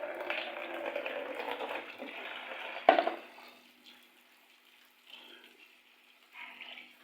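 A plate is rinsed under a running kitchen tap, with a steady close gush of water, a sharp clatter of the dish partway through, and then quieter intermittent trickles.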